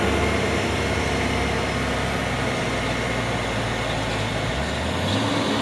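A Hino truck climbing a hill, its heavy engine droning loud and steady nearby, with the low pitch shifting slightly as it labors upward.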